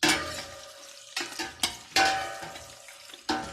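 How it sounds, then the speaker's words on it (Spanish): Onion sautéing in a pan for pickled chiles en escabeche: close scraping and clattering of a utensil against the pan in several bursts, with a soft sizzle between them and no talk. "vamos a sofreír la cebolla"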